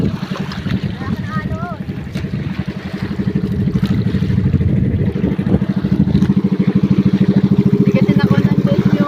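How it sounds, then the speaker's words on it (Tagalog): Big sea waves wash and slap around a small boat at sea, a steady rushing swell with wind buffeting the microphone and a churning low rumble throughout; someone talks over it. "Laki ng alon dito."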